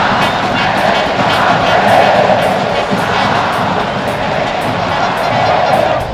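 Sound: football fans chanting a song in the stadium

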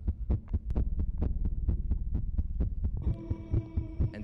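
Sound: rapid heartbeat

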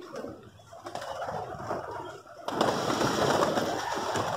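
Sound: pigeon cooing

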